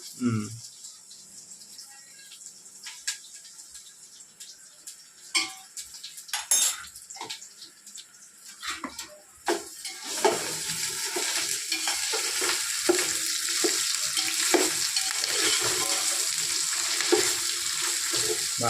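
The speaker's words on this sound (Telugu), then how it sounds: "అల్లం వెల్లుల్లిపాయ పేస్ట్ వేస్తున్నాను, 2 స్పూన్లు వేస్తున్నాను" Ginger garlic paste frying and being stirred in a pot for chicken biryani. Scattered scrapes and knocks give way to a loud, steady sizzle with stirring in the second half, and people talk over parts of it.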